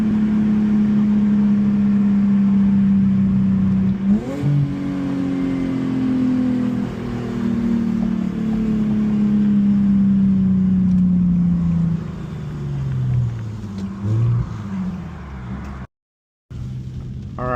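Infiniti G37X with a swapped VR30 twin-turbo V6 accelerates hard from inside the car, its engine note climbing steadily, then shifting and dropping off near the end.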